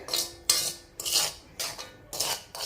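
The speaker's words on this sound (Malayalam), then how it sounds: "നമുക്കിതൊന്ന് നന്നായിട്ട് മിക്സ് ചെയ്തെടുക്കാം" Coconut-shell natural hair dye mixed in a bowl, giving repeated scraping, rasping strokes of a utensil against the bowl in a steady rhythm, close and fairly loud, with no talking.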